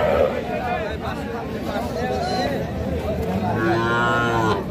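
A bull calf at a cattle market gives drawn-out moos, loud and close, with overlapping voices and crowd chatter from the busy market all around.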